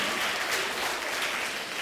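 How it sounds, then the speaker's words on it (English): Steady, dense applause from students at a school event at PS 5 Port Morris in the Bronx, a continuous wash of clapping throughout. "Give yourself a big round of applause"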